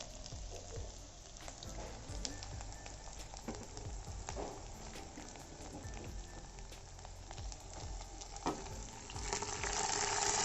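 Boiled pork frying in hot oil, a steady crackling sizzle with stirring scrapes running continuously and close, with no talk.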